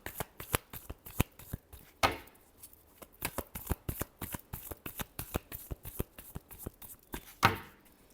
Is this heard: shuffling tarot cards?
yes